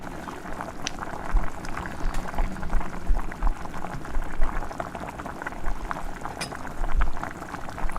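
Spiced chicken coated in chili powder, coriander powder and salt fries in a pan with a steady bubbling sizzle, loud and close, swelling and easing in waves, with no talking.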